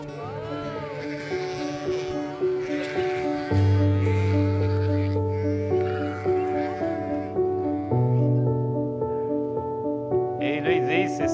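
Several sheep bleat in long, wavering, overlapping calls, close and loud, with music and an occasional voice blending in behind them.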